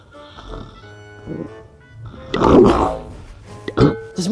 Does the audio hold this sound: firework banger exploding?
no